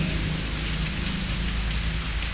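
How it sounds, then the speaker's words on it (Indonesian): Heavy rain pours down in a dense, steady roar of drops on surfaces, loud and unbroken throughout, with no voices. "Air hujan Allah turunkan dari langit, dan kita saksikan saat ini"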